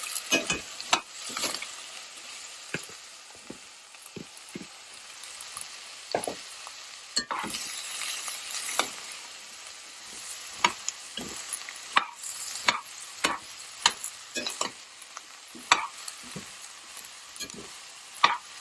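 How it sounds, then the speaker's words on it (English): Carrot and cabbage sizzle and fry together in a pan, with repeated sharp scrapes and clacks of stirring over a steady hiss, close and moderately loud, and no voices. "Now I'm gonna add the cabbage and fry them together."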